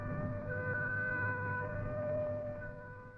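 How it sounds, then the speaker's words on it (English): A 1960s civil defence air raid siren holds a steady, special tone signalling warning grey, with layered harmonics sustained throughout and fading slightly at the end, heard alone without voices. "this special note on the siren will indicate warning grey"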